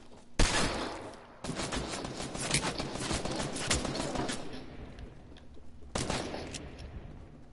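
Video game gunfire: a sharp opening shot, then a long sustained volley of rapid shots that trails off, and another burst near the end, loud and close.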